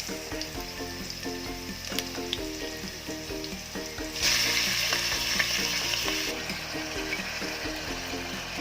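Onion and beef strips sizzling loudly in a hot pan, a dense continuous fry with stirring scrapes and a brief surge of hissing midway, no voices.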